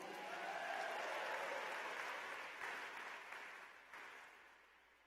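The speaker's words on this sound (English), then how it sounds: "They definitely deserve a louder applause." A convention audience applauds volunteers in a broad, sustained wash of clapping that slowly fades, with faint tonal sound beneath it early on.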